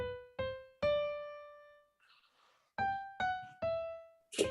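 Piano notes played staccato, six short detached strikes in a halting rhythm with a brief pause midway, clear and close at moderate volume.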